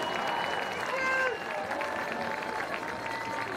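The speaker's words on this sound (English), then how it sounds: "let's give a big round of applause for the Smet Jesuit Spartans as the team is presented with their" Crowd applause for the De Smet Jesuit Spartans soccer team at the Class 4 state championship trophy presentation, a steady wash of clapping and crowd noise throughout, with a brief whistle-like tone early on.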